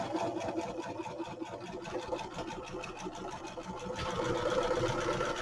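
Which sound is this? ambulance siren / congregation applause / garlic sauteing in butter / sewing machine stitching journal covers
sewing machine stitching journal covers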